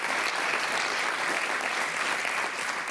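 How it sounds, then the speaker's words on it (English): A large audience applauds at the opening ceremony of Climate Week NYC in New York, a dense, steady wash of clapping that holds at even loudness for the full three seconds with no voices heard over it. "Let's give that a round of applause."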